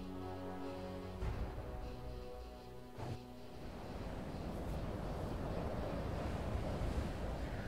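Sea waves by rocky shores in Wolcen: Lords of Mayhem, a video game: steady surf washes and rumbles continuously, growing fuller as a soft musical tone fades out early on.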